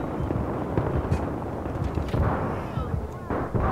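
A grenade goes off in a Battlefield 3 match on the Operation Métro map, a loud blast lost in a dense, continuous roar of gunfire and battle noise that surges throughout.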